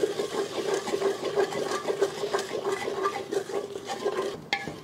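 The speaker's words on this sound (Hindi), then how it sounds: "इस स्टेज पे हम डाल देंगे पेस्ट जो हमने बनाया था। अब अच्छे से हमें भून लेना है।" Spice paste frying and being stirred in a pot for paneer handi gravy, with a steady close sizzle and continuous scraping and clinking of a spoon against the pan.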